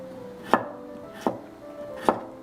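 A knife thinly slices an old, mature cucumber on a cutting board, making three crisp, evenly spaced chops close by, with no talk.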